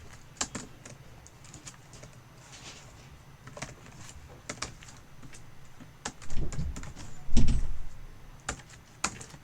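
Java code being typed on a computer keyboard: quick irregular key clicks in short bursts with pauses, plus a few heavier thumps, close and moderately quiet.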